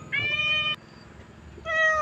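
A temple cat in Lampang, Thailand meows twice, close and clear, with a long drawn-out cry followed by a short pause and a second meow.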